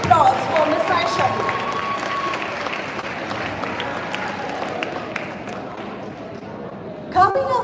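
Audience applause for a teacher at a school prize day, a broad steady wash of clapping that carries on for several seconds and fades, with a voice coming in briefly at the end.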